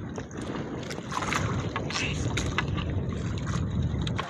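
Outdoor water scene with many fishing boats, a steady low rumble of boat motors and wind buffeting, broadband noise throughout, with faint voices mixed in.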